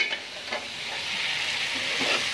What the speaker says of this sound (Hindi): बस चावल डालूंगी, थोड़े से देर फ्राई हो जाएंगे